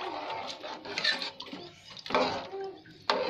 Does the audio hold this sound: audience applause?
no